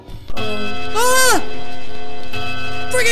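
Clock sounds in the indie survival horror game Phobia 1.5, a loud sustained ringing with tonal chimes and a sweeping warble over steady ambience.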